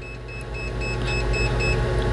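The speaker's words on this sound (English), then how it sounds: "Let's just see if we have a high current alarm when we hit that 10 amp threshold." An ANENG SZ305 multimeter sounds its high current alarm above the 10 amp threshold: a run of short, evenly spaced high beeps repeating over a steady low hum.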